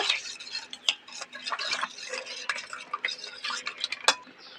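Hilsa fish is stirred with salt and turmeric in a pan, soft scraping and light metal clinks of a spoon repeating over a faint sizzle, close and fairly quiet, with no talk.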